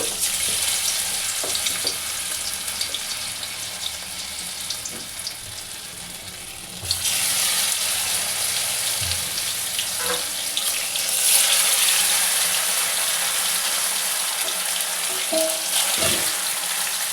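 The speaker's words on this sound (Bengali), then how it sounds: "এগুলো একটু ভালো করে ভেজে নেব বন্ধুরা" Cabbage kofta balls fry in hot oil with a steady, bright sizzling hiss that runs throughout, growing fuller partway through, with a few faint knocks and no speech.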